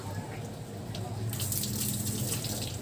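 Water poured over a Honda Click 125 scooter during washing, a steady splashing wash that brightens and thickens partway through, close and continuous.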